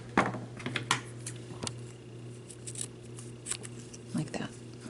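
Scissors snip the wire ends off a rhinestone-wrapped spiral Christmas wreath ornament, producing a handful of sharp close clicks and small metallic snaps spaced irregularly over a faint steady hum.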